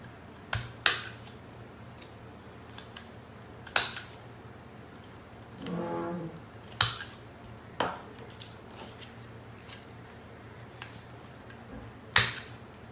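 Scissors trim the inner corners of paper for a tiny handmade album, giving sharp isolated snips spaced several seconds apart, close and crisp, with a brief rustle of handled paper in the middle.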